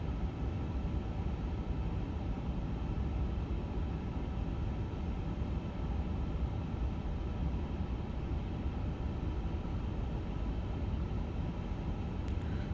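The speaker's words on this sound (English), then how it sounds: "We got that slow Airbus climb out right now" Steady broadband roar of an Airbus A350 slowly climbing out after takeoff in a flight simulator, a continuous, even engine and airflow rumble with no voices over it.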